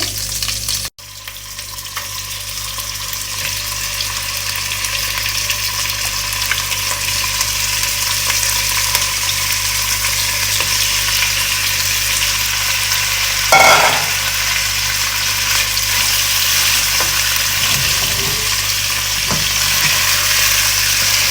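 Chicken fries in a pan with a loud, continuous sizzle that starts abruptly and holds steady for a long stretch. A brief stir or clink comes midway, and there are no voices.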